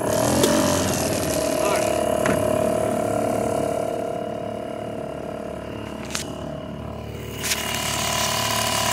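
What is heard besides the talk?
1979 Mariner 2 hp outboard motor being started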